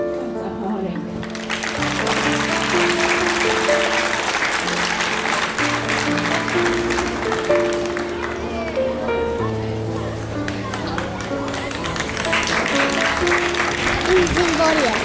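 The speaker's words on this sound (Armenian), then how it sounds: "Եղեգնաձոր համայնքի ծափահարենք։" An outdoor crowd at a Yeghegnadzor community sports tournament applauds: sustained, moderately loud clapping running the whole time beneath a prominent voice and tonal sound over a loudspeaker.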